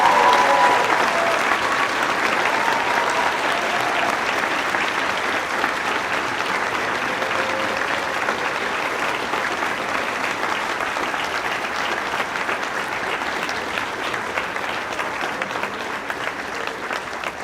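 Sustained applause from a large crowd at a medical school white coat ceremony, steady and loud, slowly tapering in intensity across the whole stretch, with no talking over it.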